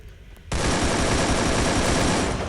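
Automatic gunfire in a shooter video game bursts in abruptly after a quiet moment. It continues as a loud, dense, rapid stream of shots, with no talking.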